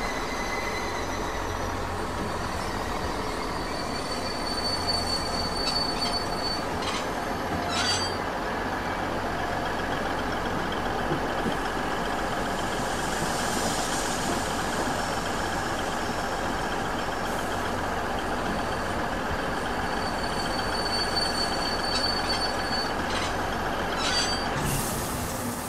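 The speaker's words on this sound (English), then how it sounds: "The train is pulling into town." Train rumbling into town in the Worms Ultimate Mayhem video game, a steady heavy engine drone with brief hissing air-brake bursts, loud and continuous throughout.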